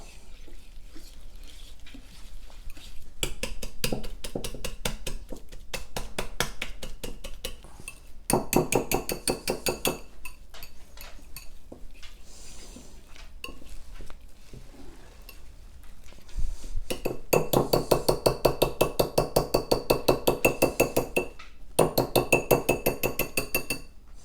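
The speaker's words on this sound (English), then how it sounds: "Whisk." A whisk beats rapidly against a bowl in a sauce seasoned with freshly ground black pepper for green fettuccine, making fast, steady metallic clinking in long bursts with brief pauses, close and fairly loud.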